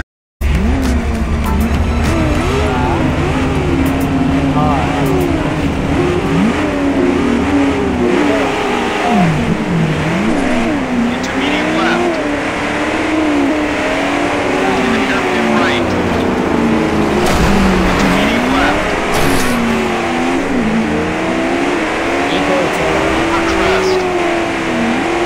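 A trophy truck's engine in Jeremy McGrath's Offroad video game revs and drones continuously with shifting pitch, mixed with tire and skid noise, while a person talks over the game audio throughout.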